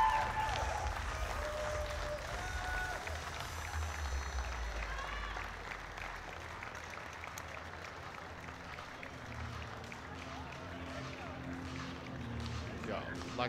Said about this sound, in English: we've got the entire audience up on their feet, clapping the latest crown black belt on the African continent, Mr. Alan Cliffe.